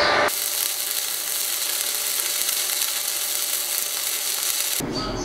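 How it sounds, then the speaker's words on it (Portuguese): An arc welding bead runs at 110 amperes, a steady loud crackling hiss that holds evenly for about four and a half seconds before stopping abruptly, with no talk over it. "Vamos tentar soldar isso aqui a 110 amperes."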